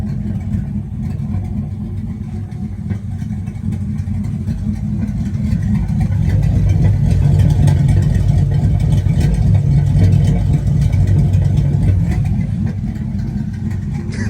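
Chevrolet Silverado truck engine with a ghost cam tune idling, a steady deep rumble with a loping rhythm, close and loud, swelling slightly in the middle before settling.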